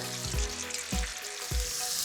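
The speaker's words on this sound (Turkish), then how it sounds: "Kavurmaya bir, bir buçuk dakika kadar devam ediyorum" Mushrooms sizzle steadily in butter in a hot pan, with a few soft scraping stirs at regular intervals; no voices.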